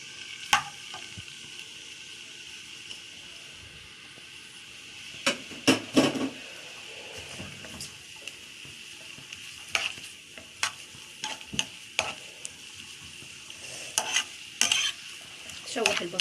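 Onion sautéing in ghee in a pot, a steady close sizzle broken by repeated sharp scrapes and clinks as a spoon stirs against the pot.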